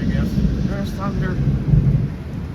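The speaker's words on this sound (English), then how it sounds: "There's thunder." Low rumbling thunder rolls continuously beneath heavy rain during a big storm, heard from a porch, with faint voices now and then.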